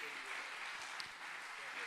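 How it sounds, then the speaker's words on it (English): Audience giving a round of applause for senior high camp students, a steady faint patter of clapping that fills the whole moment, with a voice briefly heard over it. "Can we give these students a round of applause one more time?"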